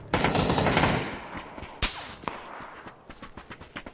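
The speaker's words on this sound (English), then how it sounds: "careful, we're getting shot" Rapid bursts of automatic gunfire in the battle-royale shooter PUBG, a dense volley at first, then scattered single shots and short bursts that fade and trail off, close and loud.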